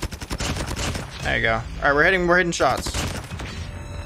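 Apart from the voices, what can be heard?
gunfire in a first-person shooter video game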